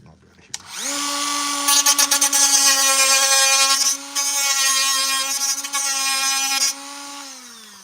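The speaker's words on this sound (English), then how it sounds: "let me cut this piece real quick" A whining rotary power tool cuts through a piece of Clone Trooper armor, spinning up, then buzzing steadily with stuttering chatter and brief dips as it bites the material, before winding down.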